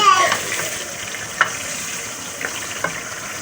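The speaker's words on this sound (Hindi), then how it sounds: "अब इसको मैं तेज़ आंच पे भूनूंगी।" Chicken gravy sizzling and frying in a pan over high heat, a steady soft hiss with a few brief stirring clatters; no one talks over it.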